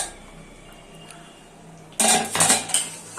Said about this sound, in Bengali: তো দেখো আমি ঢাকাটা খুলে নিয়েছি